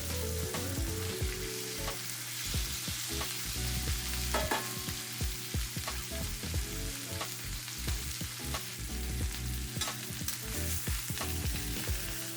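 Pork chops fry in a pan with a steady, close sizzle and crackle, broken by occasional sharp pops and the scrape of turning, and no voices.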